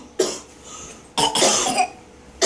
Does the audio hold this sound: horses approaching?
no